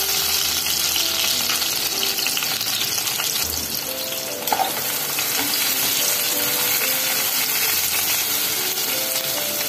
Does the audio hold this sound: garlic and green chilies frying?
yes